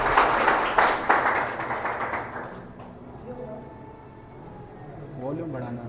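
A congregation at a Sunday evening prayer service claps loudly for Divya Yadav, a dense burst that fades out after about two seconds before a voice speaks faintly over the quiet room.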